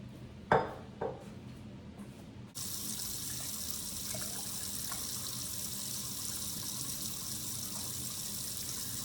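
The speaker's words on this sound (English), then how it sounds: "Put some water in here real quick." A few brief clunks at a kitchen sink, then a tap opens and water gushes steadily to fill a flower vase. The flow is a constant, moderately loud rush that lasts to the end.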